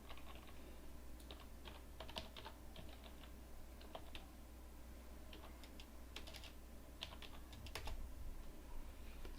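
Fingers typing on a computer keyboard at a command prompt, a quiet run of irregular light clicks and taps with short pauses, close by and alone.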